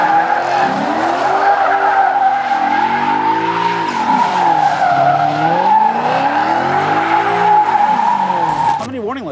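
Tires on a Maserati Quattroporte squeal loudly and continuously while the car does donuts, a sustained wavering screech over engine roar that cuts off abruptly near the end.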